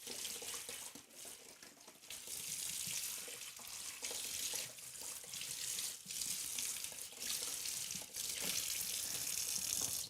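Water streams from a kitchen tap to rinse a citrus press, a steady close hiss and splash that runs nearly unbroken with a few brief dips, and no one speaks.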